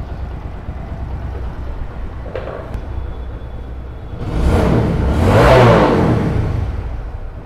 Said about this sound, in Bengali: যদি আপনার বাইকের ইঞ্জিন থেকে যদি ব্যাট ব্যাট ব্যাট ব্যাট শব্দ আসে